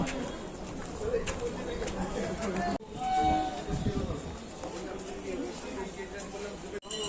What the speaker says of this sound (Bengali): তোমাদের ট্রেন ঢুকছে এখন শিয়ালদা শান্তিপুর ট্রেন ঢুকে গেছে